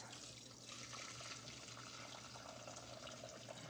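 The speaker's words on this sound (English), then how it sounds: "strain off the broth into a pot, strained out of this." Home-made broth is poured through a strainer into a pot in a kitchen, giving a steady, soft trickling and splashing of liquid that runs continuously and quietly without any talk.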